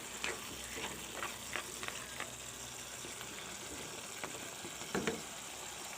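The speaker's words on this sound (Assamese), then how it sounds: "এয়া মোৰ চব্জিখিনি খুব ধুনীয়াকৈ উতলি আছে।" Vegetables simmering in a covered pot on a home stove, a faint, steady bubbling hiss with occasional small pops and clicks, quiet and without talk.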